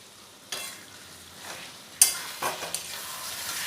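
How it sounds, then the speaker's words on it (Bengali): Duck curry with fried potatoes being sautéed in a pan, a steady sizzle with scraping stir strokes and a couple of sharper clanks of the spoon against the pan, close and alone. "আলুর সাথেও আর 2 মিনিট খুব ভালোভাবে কষিয়ে নেব"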